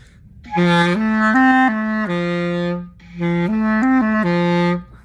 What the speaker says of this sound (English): I haven't played this clarinet since last time I was in college